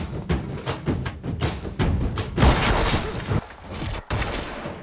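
Gunfire from a police encounter scene in the Tamil film Vettaiyan starring Rajinikanth: a loud, rapid barrage of shots and thumps rolling continuously, with a brief lull before firing resumes.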